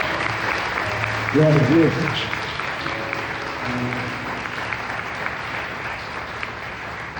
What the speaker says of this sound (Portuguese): dá uma salva de palmas para Deus